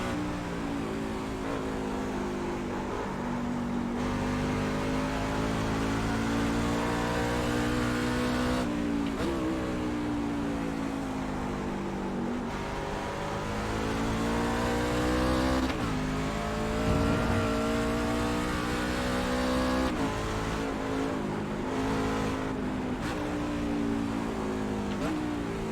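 A race truck engine on a lap of Mosport in the iRacing video game, a continuous loud drone that rises and falls through gear changes and throttle lifts across the run, with no talk.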